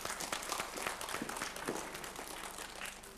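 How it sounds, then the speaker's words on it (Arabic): Applause for two young girls on a Ramadan TV show, a steady patter of clapping from a small group, fairly faint and continuous throughout. "تصفيق تصفيق عليهم"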